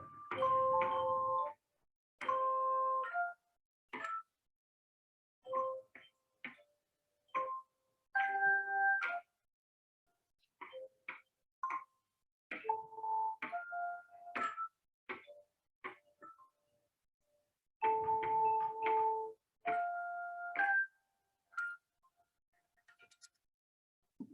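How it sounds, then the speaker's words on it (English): Children play handbells in an elementary school music class, striking clear ringing tones one after another in an uneven melody, with short silent pauses between notes and some chords. "we've been having the kids learn to read music and play bells"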